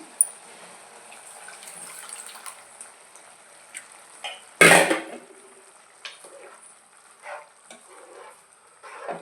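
Tamarind juice poured into a simmering curry of dried fish and eggs lands with one brief, loud splashing rush midway, set against a soft bubbling simmer and a few scattered utensil clicks.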